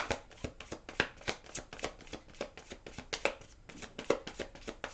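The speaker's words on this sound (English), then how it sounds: "I'm going to shuffle one more time." A tarot deck being shuffled by hand, with a steady run of crisp riffling card slaps and flutters close up, the sharpest snaps landing about every half second.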